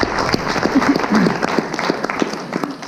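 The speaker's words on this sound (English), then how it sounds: "Give yourselves a round of applause." Audience applause fills a room after a speaker at a talk, a dense patter of clapping with some voices mixed in, fairly loud and steady before thinning toward the end.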